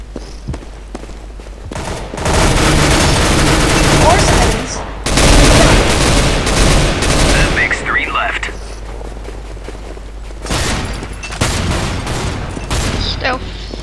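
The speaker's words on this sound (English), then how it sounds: "You hear my freaking gun firing?" Bursts of rapid automatic gunfire in CS:GO crackle loudly in long volleys, with short gaps between sprays and fainter shots near the end, the firing filling most of the stretch.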